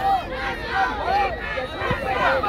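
Fans of New Era cheering at an 8s flag football championship game, a steady, loud crowd roar with overlapping shouts and whoops across the whole stretch, some voices nearby.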